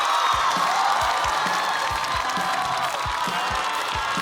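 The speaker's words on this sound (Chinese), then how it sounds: "掌声有请" A stand-up comedy audience applauds and cheers as comedian Nora is welcomed onto the stage, a steady wash of clapping with scattered whoops that holds level throughout.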